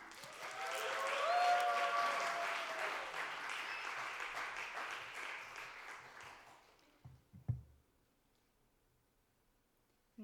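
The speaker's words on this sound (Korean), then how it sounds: "최고의 박수, 가장 큰 박수로 우리 집사님을 모셔봤으면 좋겠습니다" A church congregation applauds loudly during a Sunday worship service, a dense wash of many hands swelling early and then slowly fading out, followed by a few isolated knocks and near silence.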